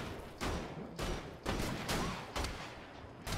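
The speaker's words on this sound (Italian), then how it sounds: "Ah no, questo è il super cannone." A super cannon fires repeatedly in Wolfenstein: The Old Blood, a rapid series of about six loud, heavy blasts at roughly half-second intervals, each with a booming decay.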